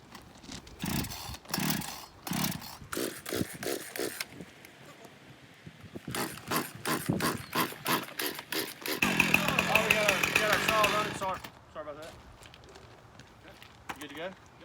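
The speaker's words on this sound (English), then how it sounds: "First thing we're going to do is we're going to crank that saw on the ground." A firefighter's ventilation chainsaw is cranked and started on the ground outdoors, giving repeated pull-start bursts followed by loud engine revving, heard up close alongside people talking.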